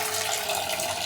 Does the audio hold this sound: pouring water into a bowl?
yes